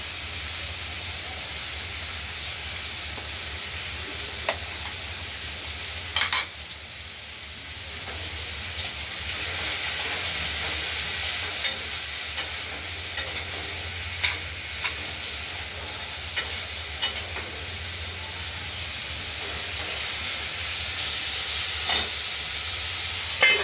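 Thin-cut pumpkin strips fry in oil with mustard seeds in a wok, giving a steady close hiss and sizzle broken by occasional scraping clinks as they are stirred.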